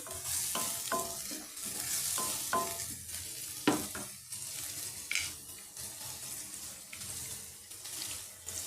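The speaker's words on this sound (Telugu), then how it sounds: "గ్యాస్ స్టవ్ మీడియంలో ఉంచి ఇలా చక్కగా ఆనియన్స్ వేయించాలి." Onions frying in a pan on a gas stove at medium heat: soft continuous sizzle with repeated clinks and scrapes of a stirring utensil against the pan, close and moderately quiet.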